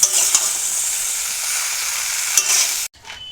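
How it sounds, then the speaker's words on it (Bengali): Broccoli fries with turmeric, chili powder and salt, a loud, close, continuous sizzle with a few stirring scrapes, which cuts off abruptly near the end. "পরিমাণ মতন হলুদ গুঁড়ো পরিমাণ মতন লঙ্কা গুঁড়ো স্বাদ মতন লবণ দিয়ে বেশ ভালো করে ব্রকলিটা ভেজে নেব"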